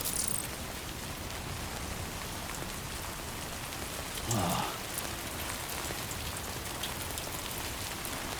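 Rain falls in the video game Death Stranding 2 as a soft, steady hiss of drops, quiet and constant throughout, with one brief swell of sound midway.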